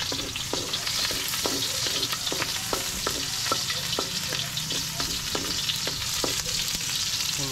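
Garlic and onion sauté in a hot pan for a Filipino vegetable dish, a steady loud sizzle with regular scraping stirs of a spatula clicking at roughly even intervals throughout.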